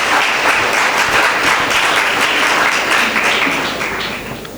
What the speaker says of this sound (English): Let's give a warm round of applause for Shiaz